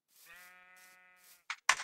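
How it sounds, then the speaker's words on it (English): A sheep bleats in the video game Minecraft: one drawn-out, wavering bleat lasting about a second, followed by two short, sharp bursts of noise, clear and close with no talking. "These are the sheep."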